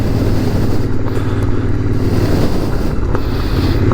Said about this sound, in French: La Royale est une bonne petite moto.